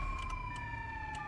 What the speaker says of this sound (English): Let me turn off the siren, because it's loud as shit.